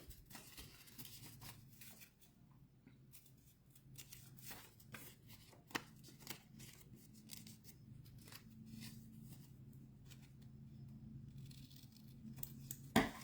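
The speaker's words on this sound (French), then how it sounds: "j'ai fait 2 petites pliures que je vais couper aussi" Scissors cutting through folded paper card for a shirt-shaped card craft, a quiet, close series of crisp snips in an uneven rhythm with soft paper rustling between cuts and a louder snip at the end.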